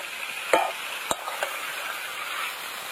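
Figs (dumur) being stir-fried in a pan, a steady soft sizzle with a few sharp spatula scrapes and clinks against the metal, close and moderately quiet, with no voices.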